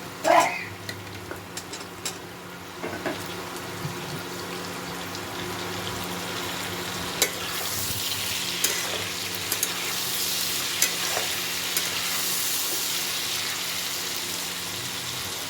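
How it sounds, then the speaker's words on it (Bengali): Broad beans and potatoes frying together in a pan give off a continuous sizzle that swells louder partway through, with scattered taps and scrapes of a spatula stirring them, heard up close with no talking. "শিমটাও হালকা করে ভেজে নেব।"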